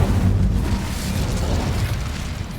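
A cast Incendio fire spell in the Hogwarts video game erupts as a loud, low whooshing burst that starts strong and slowly fades over a couple of seconds.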